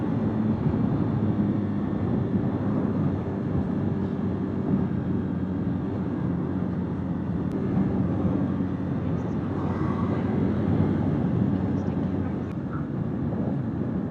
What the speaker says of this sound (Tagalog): May aeroplano, oh. Airport na. Ang laki ng aeroplano.